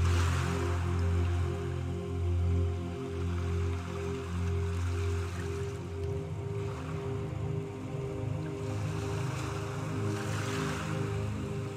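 Steady ocean surf rolls and washes continuously without pause, a full and even wash of sea waves heard alone with no voices.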